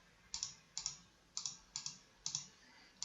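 Computer keyboard keys clatter while code is typed, crisp clicks arriving in short paired bursts at a steady pace, close and fairly quiet against a silent background.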